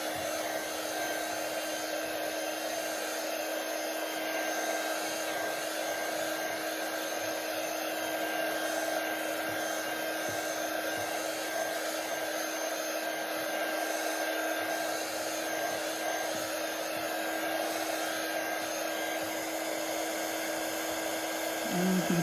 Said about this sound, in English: I'm going to do that with my little my mini heat gun here, my embossing tool.